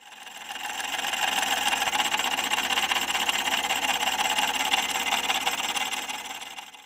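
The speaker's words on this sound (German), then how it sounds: "Vorerst schließe ich die Spannungsquelle mit Krokodilklemmen an und mein Motor sollte laufen." Small electric toy motor from a KOSMOS electronics kit, powered through crocodile clips, runs with a steady high-pitched whine and buzz that holds evenly for several seconds, fairly close and alone.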